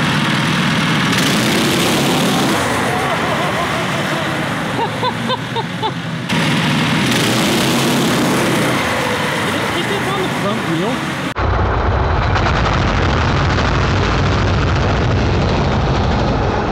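Homemade all-wheel-drive kart engine with a torque converter, running with a steady loud drone that shifts in pitch as it revs, while a person talks over it.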